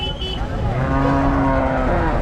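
Cows and calves low repeatedly at a busy roadside cattle market in Vaniyambadi, with long drawn-out moos over a constant crowd and traffic din.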